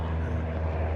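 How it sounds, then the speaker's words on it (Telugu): A helicopter from a flying training center drones overhead in a steady, loud, continuous engine hum with low rotor throb, lasting about a second. "కనిపిస్తుంది కదా హెలికాప్టర్,"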